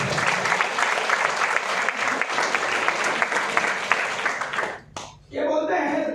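Loud, dense applause from a large audience at a Vestige event, steady sustained clapping that cuts off briefly near the end before resuming, with talking mixed in.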